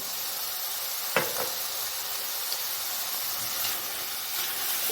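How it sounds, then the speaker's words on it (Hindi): Garam masala and white cumin roasting in a hot pan for aloo keema, a steady broad sizzle and hiss throughout with a couple of brief clicks and stirring knocks, close by and no talking. "देखिए, ये मैं भून रही हूँ, ये साथ साथ भून रहा है बड़ा अच्छा"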